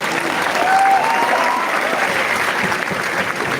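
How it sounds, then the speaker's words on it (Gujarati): An audience claps together in sustained applause, a dense, even patter of many hands that holds steady for a few seconds. "फरीથી એકવાર જોરદાર તાળીઓથી આપણે અશોક વિજયને કરાવીએ।"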